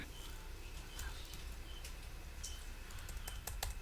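A computer keyboard clicks softly in short, scattered bursts of keystrokes while text is typed into Microsoft Word, heard at close range in a quiet room with a low background hiss.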